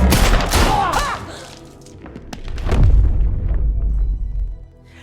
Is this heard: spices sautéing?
no